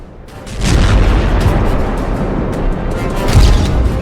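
Dense, continuous rumbling booms with heavy low-end from aerial bomb explosions in war strikes on Ukraine, sustained throughout and swelling near the end.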